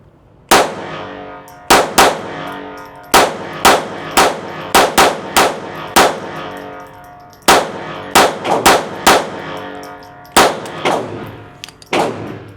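Close, sharp shots from a Taurus TX22 FRT .22 pistol, about seventeen reports fired in quick, slightly uneven bursts with brief pauses between groups, each crack ringing out alone.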